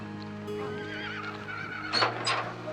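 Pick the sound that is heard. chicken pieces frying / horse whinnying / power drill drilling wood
horse whinnying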